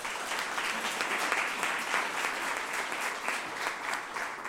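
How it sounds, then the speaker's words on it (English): Audience at a Columbus Metropolitan Club community health forum applauding a panelist's introduction, a steady wash of many hands clapping throughout, moderately loud with no voices over it. "So give him a round of applause."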